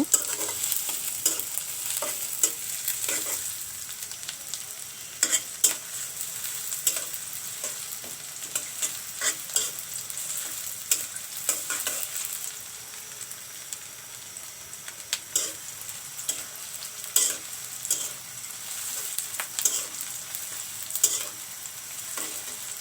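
Sliced onions frying lightly in a pan while shol fish is being cooked with tomato, flat beans and new potatoes, giving a steady soft sizzle broken by repeated clattering stirs of a spatula, close up with no talking.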